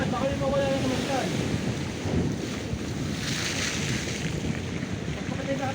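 Strong sea waves wash steadily along the seaside under a constant roar of wind buffeting the microphone, a dense, unbroken rush with no clear breaks between surges.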